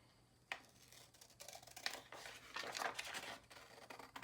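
Scissors opening and closing, snipping and crinkling paper in a few quiet, irregular cuts up close, with soft rustling between snips.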